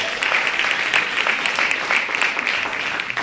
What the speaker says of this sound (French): Est-ce qu'on peut applaudir Siméon et Sabrina